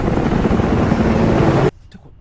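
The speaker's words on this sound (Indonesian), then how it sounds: "suara gaduh pesawat militer yang terbang di atasnya" A loud, roaring military aircraft engine drones overhead with a deep throbbing hum, then cuts off abruptly into near silence.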